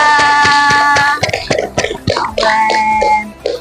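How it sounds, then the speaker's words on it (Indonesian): Several hands clapping together at a religious study gathering, a brief burst of rapid claps up close, then scattered looser claps mixed with tonal background sounds and faint voices. "Tepuk tangan dulu buat Mas Rasya."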